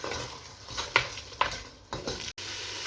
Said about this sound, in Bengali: পেঁয়াজ বাটার পর আমি দিয়ে দিচ্ছি আদা রসুন বাটা। এটা দিয়ে একটু কষিয়ে নিব